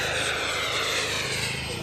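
A model aeroplane flying at the Cosford model airshow, its engine a steady, even drone throughout, fairly close and unbroken, with no talk.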